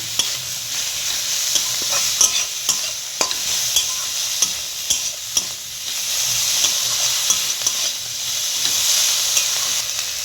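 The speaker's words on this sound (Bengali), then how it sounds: "দিয়ে শাকটা মশলার সাথে ভালো করে ভেজে নেব" Boiled tender greens being stir-fried with spices in a pan, a steady sizzle and hiss with repeated sharp scrapes and taps of a spatula stirring against the pan, close and continuous.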